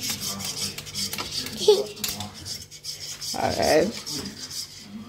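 Eggs being whisked in a bowl while cooking breakfast, a steady rubbing, scraping rhythm close by with a couple of louder bursts, mixed with children's voices and adult talk in a home kitchen.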